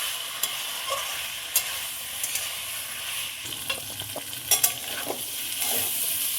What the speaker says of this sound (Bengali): সিম ফুলকপি দিয়ে খুব ভালোভাবে নেড়ে দেবো